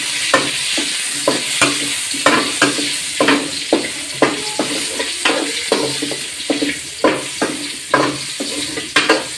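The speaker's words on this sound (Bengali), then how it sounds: "আমার বেগুনগুলো ভাজা হয়ে গিয়েছে" Eggplant pieces sprinkled with turmeric and salt fry in hot oil, a loud steady sizzle broken by regular scraping strokes of a spatula stirring the pan, with no voices.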